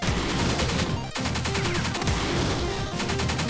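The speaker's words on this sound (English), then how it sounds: "so many explosions." Gunfire and explosions from the video game Pineapple Smash Crew: dense, continuous rapid shooting with overlapping blasts, loud and busy throughout with only a brief break partway through.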